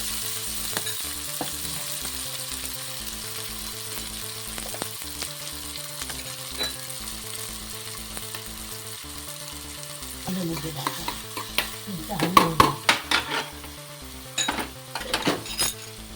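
Onion and chili, following cumin, frying in hot oil in a pan, with a steady sizzle under repeated stirring and clinks of a utensil on the pan that turn busier and louder toward the end; no talking.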